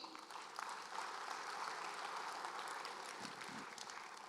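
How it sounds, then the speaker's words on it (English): Conference audience at a session on Africa's digital future applauds the keynote speakers, a soft, even wash of clapping that sounds distant and faint and continues steadily throughout. "So a round of applause for all our keynote speakers this morning"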